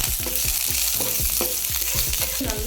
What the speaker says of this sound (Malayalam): ഓയിൽ ചൂടാകുമ്പം അതിലോട്ട് കുറച്ച് ഗാർലിക് കട്ട് ചെയ്തത്, പച്ചമുളക്, കുറച്ച് കറിവേപ്പില,